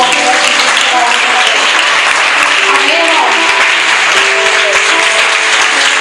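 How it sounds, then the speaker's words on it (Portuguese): A church congregation applauds God in a dense, steady round of clapping that fills the whole stretch, with a preacher's voice speaking over it. "Uma salva de palmas para ele"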